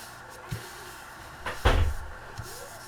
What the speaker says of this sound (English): Can you please shut that door?